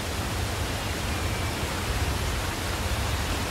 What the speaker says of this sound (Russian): Тонны воды бурлят здесь каждую секунду.